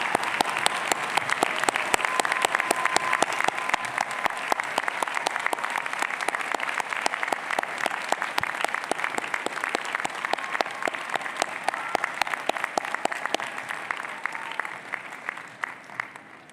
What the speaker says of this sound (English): please join me in a well-deserved round of applause for one more time, the Texas McCombs Hildebrand MBA Class of 2025